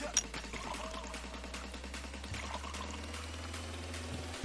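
Beer runs from a tap and spills in the Brewpub Simulator game, a continuous pouring stream over a steady low drone that cuts off sharply near the end.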